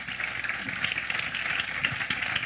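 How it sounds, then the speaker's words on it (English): A conference audience applauds the panelists after a session on NFT regulation, giving a steady, dense round of clapping that holds at an even level throughout. "please, a big round of applause to the panelists"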